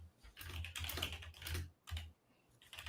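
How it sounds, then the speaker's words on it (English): Someone types on a computer keyboard in bursts of rapid, close keystrokes with brief pauses between runs, and no one speaks. "I don't know why I was typing in your name."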